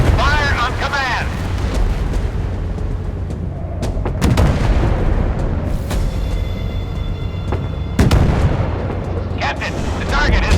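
Warship guns boom in the naval game Force of Warships, with several heavy blasts over a constant rumble of engines and battle noise, while a voice speaks throughout.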